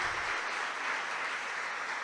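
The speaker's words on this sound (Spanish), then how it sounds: "Dele ese aplauso fuerte al Señor" A church congregation applauding, a broad, steady patter of many clapping hands that carries on evenly for a couple of seconds, somewhat distant and soft.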